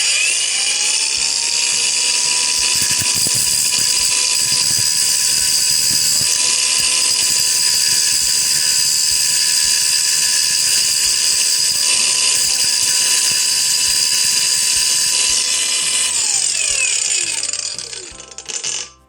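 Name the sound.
Lucid LY-850 brushless angle grinder cutting a nail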